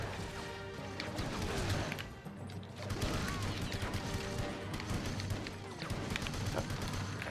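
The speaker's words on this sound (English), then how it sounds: "Who is shooting at us?" Gunfire and crashing impacts in the action game 007: Everything or Nothing, loud bursts of shots and smashes coming in waves through the whole stretch with brief lulls between, voices talking over parts of it.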